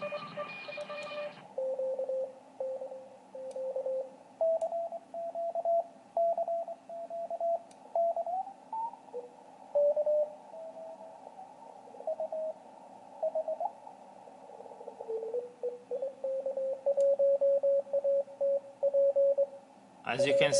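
A Collins 390 receiver set to CW mode plays a keyed Morse code tone that beeps in irregular dots and dashes and shifts slightly in pitch, over a low steady hiss with no speech.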